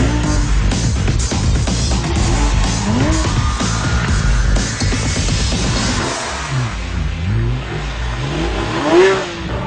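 A Porsche 911 RS engine revs hard and rises and falls through repeated acceleration runs with tire squeal. The sound is loud and close, with no talk.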